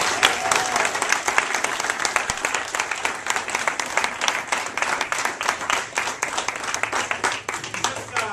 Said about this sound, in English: Let's have a round of applause for Mr. Governor.